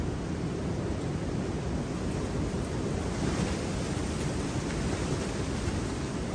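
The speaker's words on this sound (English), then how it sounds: "Windy out today." Steady wind rushes and roars outdoors, a continuous broadband blowing with no voices.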